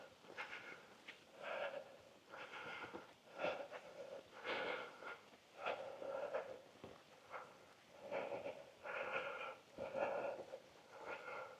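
Heavy, rhythmic breathing from a hiker climbing a steep uphill path through Cornwall woodland toward a hillfort, close to the mic, with audible panting bursts and rustling footsteps throughout.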